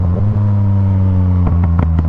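Motorcycle engine idling loud and close at the start line of a drag race at a motorcycle rally in Bakadzhika, a steady throbbing hum with a few quick clattering blips near the end.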